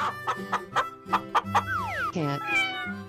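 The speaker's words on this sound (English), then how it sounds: "Chicken." A cartoonish chicken clucks in a rapid series of short, sharp bursts, then gives way to a sliding cat-like meow over a steady musical backing.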